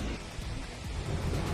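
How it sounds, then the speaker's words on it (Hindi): Heavy downpour in Dehradun, a dense, steady hiss of rain with low rumbling underneath, continuous and fairly distant-sounding with no clear gaps. "देहरादून में झमाझम बारिश"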